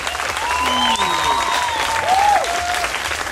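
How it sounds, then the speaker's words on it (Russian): A concert crowd at a jazz band performance in Koktebel applauds the musicians with dense, steady clapping for a few seconds, while voices call out over it. "Еще раз аплодируем музыкантам."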